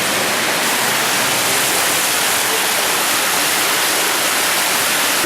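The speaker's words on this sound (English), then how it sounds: "we have this underground river system here, and this gives you these small waterfalls." A steady, dense rush of small waterfalls fed by the underground river inside Harrison's Cave, Barbados, a constant loud hiss of falling water that never lets up and has no voices over it.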